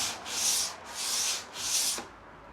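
Three slow, even strokes of hand sanding rasp against wood, each a soft scratchy sweep close by, with short pauses between.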